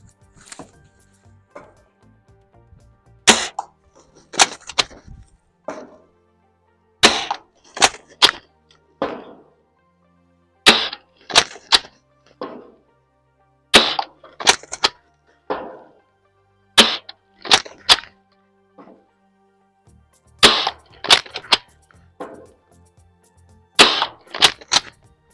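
A Gameface Trion dart blaster fires its stock darts in a long series of sharp, close pops. Shots come singly and in quick clusters with short gaps between bursts, and no one talks over them.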